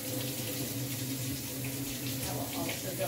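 Tap water runs steadily into a kitchen sink while a gravlax fish fillet is rinsed and scraped under it, a soft continuous splashing hiss close by.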